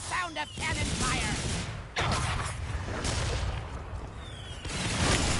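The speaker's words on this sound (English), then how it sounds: "Oh, I love the sound of cannon fire!" Cannon fire in the Skylanders Imaginators video game, a dense, loud barrage of booming blasts and explosions that rolls on continuously with brief dips, heavy battle noise filling the scene.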